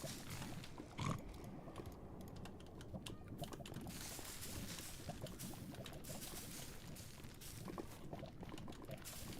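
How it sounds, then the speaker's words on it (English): Hoglins in Minecraft grunt and squeal in irregular bursts alongside clicking keyboard-like taps, a busy, mid-level mix of snorts and clatter with no talking. "This is the noises the hoglins make. Squealing and crap."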